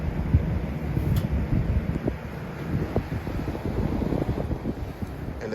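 A 2003-04 Lasko Weather-Shield box fan, model 3720, dusty before cleaning, blows a soft, rushing stream of air, a close, low, breathy whoosh with faint flutter and no voices.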